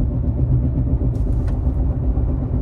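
Car with a worn wheel bearing driving along, a steady, dense low rumble filling the cabin without letup.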